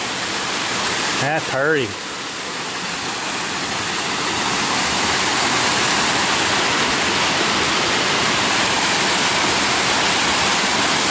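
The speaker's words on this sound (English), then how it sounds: "So here we are, Hammond Falls. That's where it cascades to." Hammond Falls in Rabun County, Georgia, pours as a steady, loud broadband roar of cascading water that fills the whole clip, with a brief spoken remark near the start.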